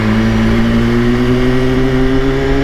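A 200 hp BMW S1000RR motorcycle accelerates with its quickshifter, its engine droning loud and steady with rising pitch from close range, with no talking.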